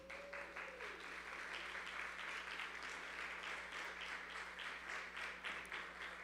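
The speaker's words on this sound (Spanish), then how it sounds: "les saluda a ustedes con un caluroso aplauso" Steady applause from a sizable church congregation at a live worship service, fairly quiet and distant, with a low constant hum underneath and a brief tone at the start.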